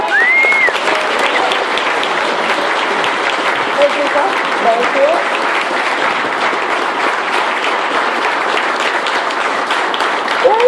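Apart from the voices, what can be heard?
audience applause at campaign event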